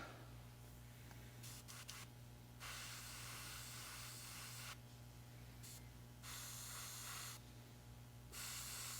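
An airbrush sprays K-Colors Steel chrome paint over lacquer on a 1/48 Tamiya F-4B Phantom model part, a soft close hiss in several bursts separated by short pauses.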